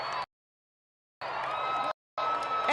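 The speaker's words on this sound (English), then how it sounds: "And the crowd goes wild" Crowd cheering and shouting at a total solar eclipse in Nigeria, coming in two loud bursts separated by short silent gaps.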